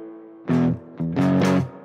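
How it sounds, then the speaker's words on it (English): Electric guitar plays short chords through a convolution spring reverb modeled on an old Fender Deluxe amp, two bursts with a brief gap, each ringing out with a springy tail, close and loud. "Let's just do the convoluted spring reverb, which is out of an old Deluxe."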